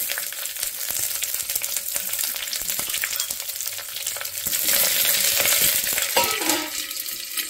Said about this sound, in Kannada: ನೆಕ್ಸ್ಟ್ ಈರುಳ್ಳಿನೂ ಹಾಕೊಳ್ಳೋಣ ಇದಕ್ಕೆ.